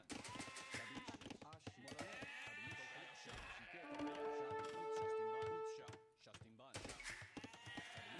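Sheep bleating in Age of Empires II, a clear drawn-out bleat in the middle amid game clicks and effects, with someone talking around it.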